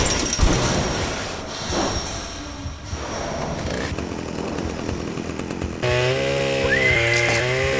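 Chainsaw from the game Manhunt, set in Carcer City, roaring steadily through a noisy game mix, then shifting into a harsher, higher-pitched revving whine in the final seconds.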